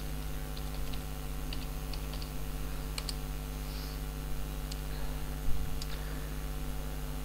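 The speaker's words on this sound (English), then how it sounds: "For verification, again type in the password." Soft, sparse keystrokes on a computer keyboard as a password is typed while setting up a TightVNC server on a Raspberry Pi, scattered taps over a steady low electrical hum in a quiet room.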